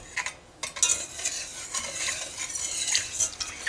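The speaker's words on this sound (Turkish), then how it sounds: "Sütümü yavaş yavaş ilave ediyorum." Milk poured slowly into a pan while a spoon stirs steadily on an unlit stove for a magnolia pudding, giving soft scraping and liquid swishes in irregular bursts, close and moderately quiet.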